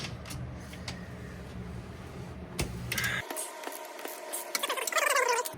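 Ratchet clicks while breaking loose the inner joint bolt on the suspension of a 2022 Lexus IS 350 RWD during a lowering spring install, with brief bursts of clicking and metallic rattling in a garage, no talk.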